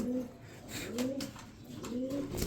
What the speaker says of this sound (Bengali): এখানে দেখতে পাচ্ছেন একজোড়া রেসার কবুতর